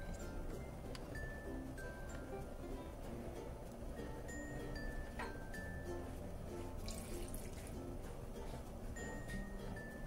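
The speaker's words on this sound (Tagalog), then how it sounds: "Lagyan lang muna natin ng 2 basong tubig." Two glasses of water added to beef in a cooking pot, a soft continuous pouring and dribbling of water with faint drips and clinks, steady and fairly quiet, with no one talking.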